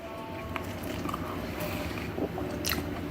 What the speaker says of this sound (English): I'm getting the crunch from the onion.